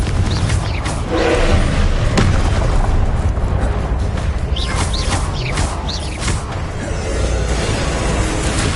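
Confringo fire spells burst in a Hogwarts video game combat scene, a dense run of loud booming explosions layered over constant rumbling battle noise, with a few sharp cracks.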